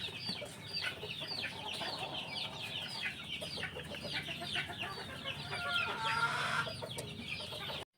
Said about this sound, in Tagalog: naririnig kong nakurukutok yung isang inahin na nalimlim sa tangkal